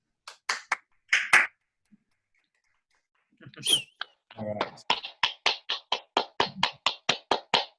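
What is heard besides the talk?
small group clapping loudly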